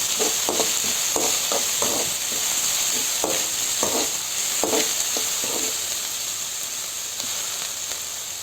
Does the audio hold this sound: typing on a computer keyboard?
no